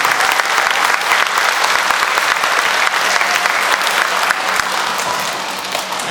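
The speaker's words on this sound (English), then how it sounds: "one more round of applause and a great big thank you to Captain Robert Stanley" Steady, loud crowd applause at an elementary school Veteran's Day program, continuous clapping from many hands that barely tapers by the end.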